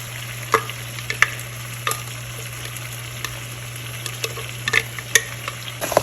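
Chicken cooking in a pot for a white korma, with an onion and yogurt paste being stirred through it: soft scraping stir strokes and light clinks over a steady low frying hiss, no talking.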